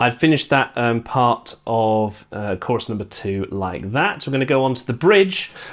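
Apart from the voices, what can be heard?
No everyday noise stands out behind the speech.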